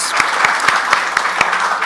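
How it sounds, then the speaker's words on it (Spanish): An audience at a lecture on engineering and chemistry gives brief, moderately loud applause, with steady rapid clapping and a few sharper claps standing out. "Un aplauso para Jesús"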